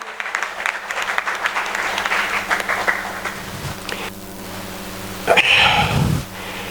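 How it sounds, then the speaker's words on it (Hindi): Audience applause welcoming a motivational speaker and life coach at a company's first anniversary celebration, a dense clapping wash for about four seconds, then a brief louder burst near the end. "जोरदार तालियों के साथ मैं चाहूँगा उनका भी स्वागत करें"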